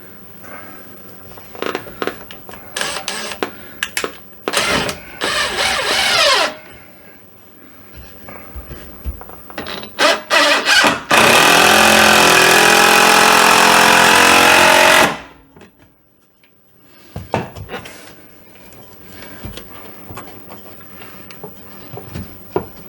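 A power drill drives a 3-inch construction screw into a crooked wall stud. Short bursts of noise and handling clatter lead up to a loud, continuous buzzing whir lasting about four seconds. Quieter scraping and knocking follow.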